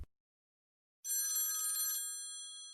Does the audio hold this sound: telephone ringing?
yes